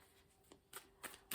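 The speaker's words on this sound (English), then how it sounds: "I'm going to give a quick shuffle to see if there's anything else from the tarot." A quick riffle shuffle of a tarot deck: soft papery flutters building into three or four sharper snaps of cards, close and quiet in a still room.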